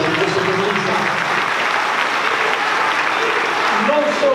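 Crowd applause rises at a political gathering held at Superstudio in Milan, thick, continuous clapping from many people throughout, with a voice speaking over it.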